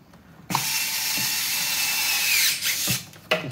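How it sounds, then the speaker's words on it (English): Power drill driving screws into a Ryobi 40V jet fan blower, a sharp start into a sustained whine with a brief dip and a second burst near the end, close and loud with no talk. "Just want to put a couple screws in it for now."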